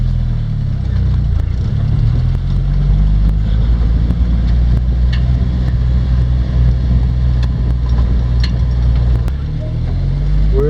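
A Jeep drives up a desert wash while searching for mines, its engine a steady, close drone with rough rumbling and rattling throughout.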